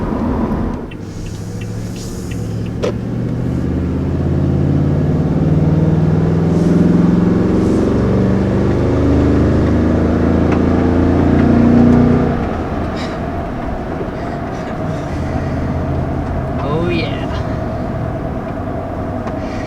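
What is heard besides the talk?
V8 pickup truck engine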